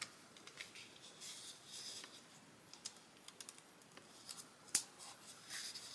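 Scissors snipping thread beside stitching on a watercolor painting, a few faint close clicks and light handling noises, with one sharper snip near the end.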